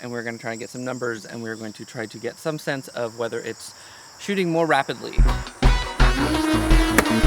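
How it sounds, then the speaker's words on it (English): Crickets chirp steadily outdoors during cricket season as a faint high background, running under close talking and joined toward the end by louder commute traffic noise. "It is cricket season here, and it is also commute time, so pardon the extra noise."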